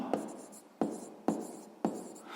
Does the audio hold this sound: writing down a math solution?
yes